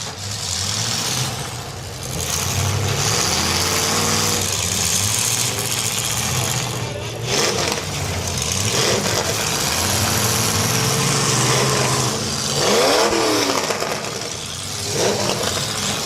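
Demolition derby cars at a county event in Athens County, Ohio rumble and idle with repeated revving bursts, a steady engine drone rising and falling over about sixteen seconds, with crowd and arena noise in the background.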